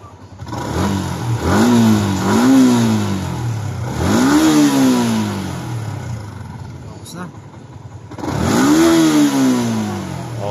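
A Yamaha Sniper 150 motorcycle with an error 1 fault starts up and revs in three or four rising throttle bursts, dropping back to idle between them, loud and close, with people talking over it.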